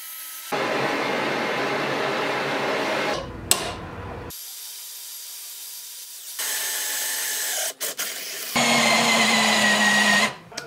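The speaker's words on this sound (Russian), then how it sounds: "А дальше дело за гриндером." A grinder shapes a knife being made from an old file, a loud steady whirring abrasion in several long passes broken by short pauses, with the tone shifting as the metal is pressed and lifted.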